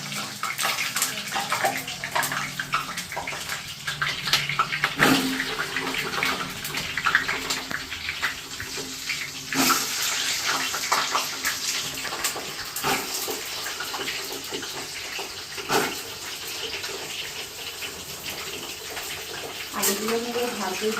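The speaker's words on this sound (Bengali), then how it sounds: "আলুগুলো এবার ভাজতে দিয়ে দিলাম।" Potato pieces frying in hot oil in a pan on a lowered gas flame for a homemade mutton curry, giving a steady, dense hiss and sizzle with a few sharper crackles and bursts throughout, heard close and continuous.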